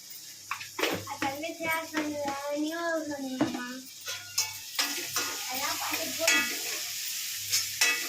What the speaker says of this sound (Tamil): சேர்த்து எல்லாத்தையும் கொஞ்சம் நல்லா மிக்ஸ் பண்ணி வச்சுக்கலாம்